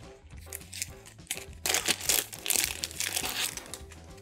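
Merchants Cove board game components being unboxed: crinkling and rustling of plastic wrap and packaging handled close up, in irregular bursts over a low background hum.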